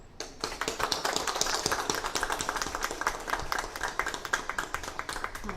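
A crowd applauds hospital medical staff at Sai Buri Crown Prince Hospital in Pattani, Thailand, with dense, rapid clapping that holds steady and loud throughout.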